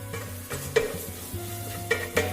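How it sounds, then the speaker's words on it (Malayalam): Spice powders being stirred into softening tomatoes in a pan for kebab masala rice, a gentle low sizzle with a few sharp spoon scrapes and taps against the pot. "വീണ്ടും നന്നായി ഇളക്കുക"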